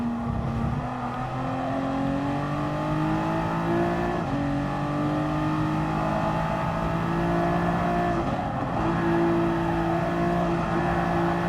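Nissan GT-R race car engine in Gran Turismo Sport heard from inside the car: a loud, continuous droning roar that rises in pitch through the gears, dipping briefly at each shift, with no talk.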